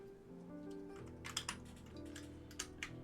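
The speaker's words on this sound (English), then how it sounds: "these keycaps just kind of click on there" Keycaps are pressed onto an IBM Model M keyboard during a restoration: a few sharp plastic clicks and snaps at irregular moments over a quiet, humming background.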